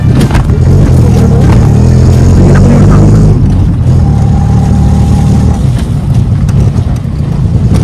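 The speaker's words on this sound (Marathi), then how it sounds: "भेटली बाबा एकदाची रिक्षा." Loud engine of a crowded auto rickshaw carrying nine people near Manori village, a steady low mid-range drone that revs briefly, with voices talking underneath throughout.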